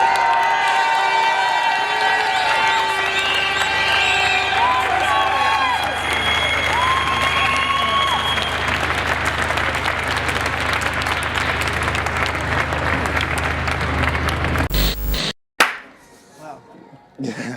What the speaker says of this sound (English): So please, everyone, make some noise for Charlotte Wright.